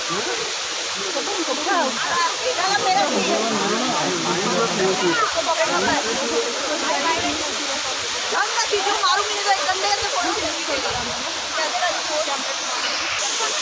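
Uski waterfall at Similipal roars as a constant broad rush of falling water, loud and close throughout. People talk over it.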